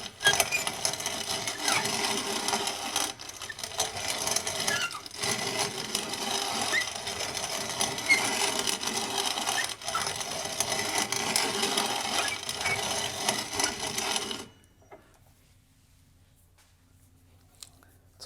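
Dried acorns being ground into flour in a hand grinder, a continuous gritty crunching and rattling for about fourteen seconds with brief dips, then stopping into near silence.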